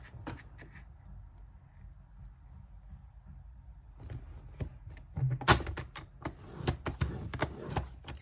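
A paper trimmer scores a sheet of cardstock, with a few soft taps and shuffles followed by a quick series of sharp scraping clicks as the blade runs along the paper, close and fairly loud.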